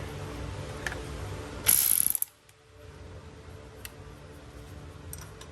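A ratchet loosens the foot peg bolts on a Yamaha R6 motorcycle with one short, close burst of rapid clicking, followed by quieter handling noises.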